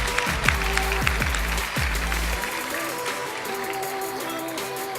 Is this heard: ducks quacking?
no